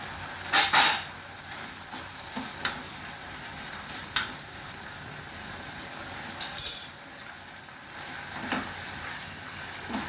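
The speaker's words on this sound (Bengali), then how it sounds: "এক চামচ ঘি দিয়ে দিলাম।" Ghee sizzles in a pan of prawn curry as it fries, a steady hiss broken by scraping stirs and occasional metallic clinks of a spoon, close and without speech.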